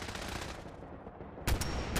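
Rapid gunfire crackles in Fallout 4 combat, a continuous stream of shots at moderate distance, with a sharper, louder burst breaking in near the end.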